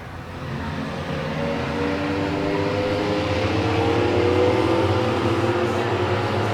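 Race cars at Mid-Am Night roar down the front straightaway after the green flag, a dense layered engine drone with rising pitch bands as the field accelerates, loud and continuous.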